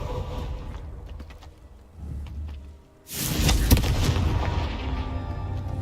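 A Confringo spell explosion in the video game Hogwarts Legacy, a sudden loud burst that follows quieter rumbling and then rolls on as sustained crackling blast noise.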